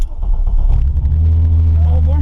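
A manual car's engine catches and settles into a steady, deep idle with a slight rev, close and loud.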